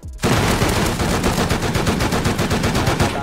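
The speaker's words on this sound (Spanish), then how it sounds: "Oye, el bot está disparando a alguien" A bot in the video game Rust fires continuous rapid automatic gunfire, a dense, loud burst of shots that starts abruptly and keeps going without a pause.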